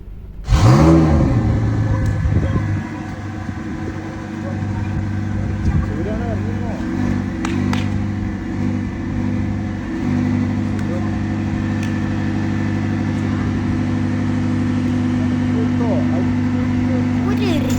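A vehicle engine cranks and fires up with a sharp, loud start, then settles into a steady, throbbing idle that carries on under a voice.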